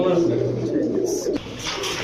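Pakistani pigeons cooing at a pigeon farm, soft low coos up close, with someone talking over them for most of the stretch.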